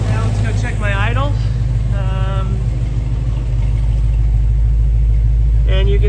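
A Chevrolet small-block 350 V8 with a carburetor idles high in a steady, deep rumble that runs throughout, while a person talks over it in a few short bursts.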